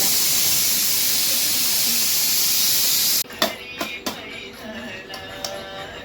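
A pressure cooker holding potatoes releases a loud, steady hiss of steam for about three seconds, then stops abruptly. Sharp clattering clicks and knocks follow.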